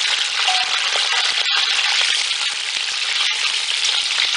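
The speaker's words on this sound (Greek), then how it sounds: "Θα βάλουμε μέσα σε μια μεγάλη κατσαρόλα ελαιόλαδο για να σοτάρουμε τα κρεμμυδάκια" Small onions sauté in olive oil in a large pot, giving a loud, steady, close sizzle and crackle with brief breaks, and no talking.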